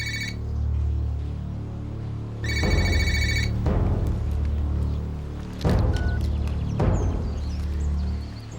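A telephone rings with an incoming call, two bright electronic ring bursts sounding over a steady low hum, followed by a few softer knocks and rustles, with no voices.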